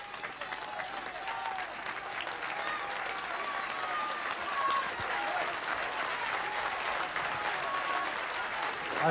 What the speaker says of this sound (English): gets a fine round of applause from the crowd here as he goes in under us here in the stand.